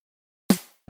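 A layered snare drum sample made of four stacked layers, one sharp, punchy hit with a short bright decay followed by the start of a second hit, alone and close.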